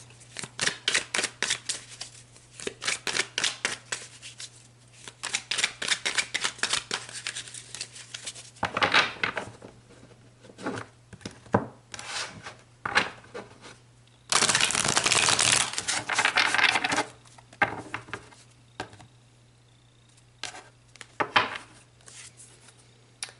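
Tarot cards are shuffled and drawn for a pick-a-card reading, with bursts of quick riffling flicks and slaps, a longer dense rustling shuffle in the middle, and scattered soft card taps, all close and without talk.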